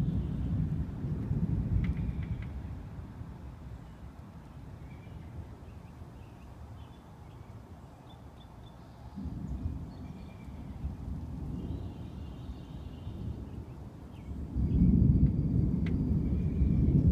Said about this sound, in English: One of the worst thunderstorms I've ever experienced.